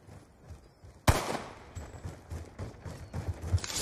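A sharp, loud gunshot in the video game Call of Duty erupts suddenly after a quiet moment, followed by continuing scattered shots and rumbling battle noise.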